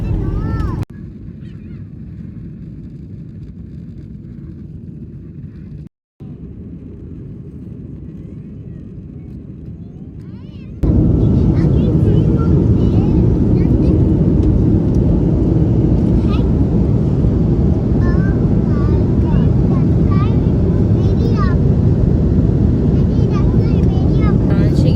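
An airplane takes off, heard from inside as a quieter cabin hum that suddenly jumps to a loud, sustained engine roar, with voices faintly present under the noise.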